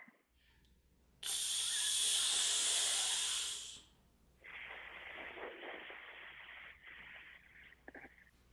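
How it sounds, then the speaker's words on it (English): A strong, sustained hiss of breath for a few seconds, followed by a second softer, breathier hiss that trails off. "do for me, please, a really strong, sustained for like 4 seconds hiss"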